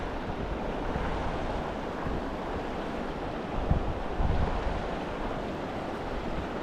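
Water in the lower Santa Ana River in the San Bernardino Mountains cascades over rocks, making a continuous broadband rushing roar, close and steady, with a brief louder surge partway through and no voices.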